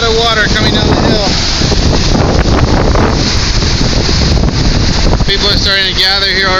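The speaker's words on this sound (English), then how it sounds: "This is a lot of water coming down the hill." Flash flood water rushing down a hill in Waikoloa on the Big Island of Hawaii, a loud continuous roar with heavy wind buffeting the microphone and a voice talking at the start and end.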